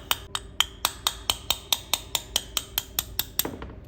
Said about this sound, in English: You're going to want to hold the punch and tap the pin out.